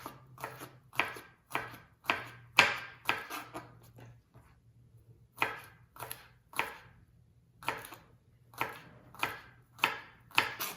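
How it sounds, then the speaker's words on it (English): A knife thinly slicing food on a cutting board, a quick rhythmic run of crisp close cuts in bursts, with a short pause in the middle before the slicing picks up again. "I'm just gonna slice this up really thin."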